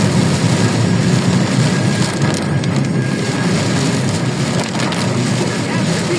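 Heavy rain pours onto a road in Bocaue, a loud, dense, unbroken roar of downpour with splashing, recorded close up and steady throughout.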